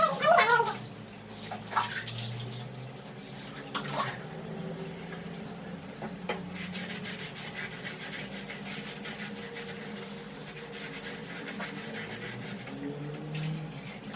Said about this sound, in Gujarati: ગરમ પાણીથી પરી નવડે દેશું